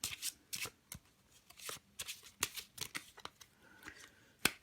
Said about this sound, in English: this is how I would normally shuffle overhand